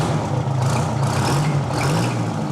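A homemade rat rod truck powered by a 9-litre two-stroke turbocharged Detroit diesel rumbles steadily at close range, a deep continuous drone throughout.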